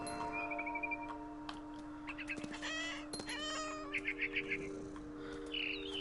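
A mother bird clucks in What Remains of Edith Finch, a run of short rhythmic clucks and squawks over a steady ambient hum, mixed with meow-like cat calls and chirps, moderately close.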